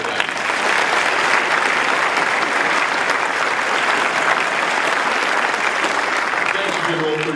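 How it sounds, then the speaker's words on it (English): At a 2023 graduate commencement ceremony, a large crowd gives General Wagner a loud, dense wash of applause that holds steady and sustained throughout, thousands of claps merging into a continuous roar. "How about one more round of applause for General Wagner?"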